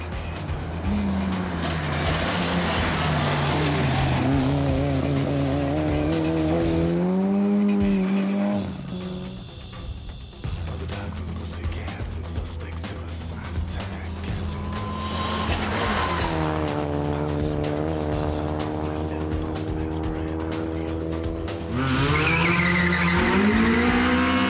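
Race car driven by Atanas Bozhilov at the Blagoevgrad Hillclimb 2012, engine loud and close, revving up through gears with rising whine, a brief lift-off midway, then climbing through the revs again.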